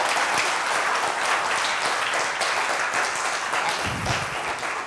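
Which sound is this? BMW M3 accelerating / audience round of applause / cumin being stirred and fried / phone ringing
audience round of applause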